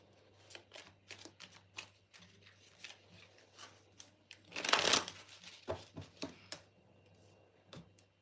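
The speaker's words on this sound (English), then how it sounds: "I shuffled this card back into the deck" A deck of playing cards being shuffled in a hotel room, with a series of soft riffling flicks and one louder, longer burst of card shuffling near the middle, fairly close.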